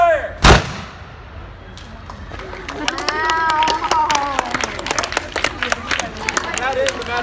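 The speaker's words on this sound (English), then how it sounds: "That is the matchlock musket." A single loud matchlock musket shot booms out at historic Jamestown, Virginia, a sharp blast with a short tail, followed by crowd chatter, cheering and scattered clapping from nearby onlookers.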